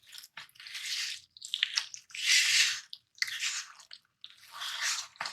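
Water being worked into dry flour by hand to knead dough, giving repeated wet squishing and sticky slapping bursts in an irregular rhythm, close and fairly quiet, with no talk.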